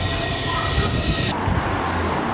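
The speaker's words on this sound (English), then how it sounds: "More trains." A train rolls past nearby on an urban line abroad, a loud, steady rumble of wheels on rail with a brief high squeal before the noise shifts to a lower, rougher rattle.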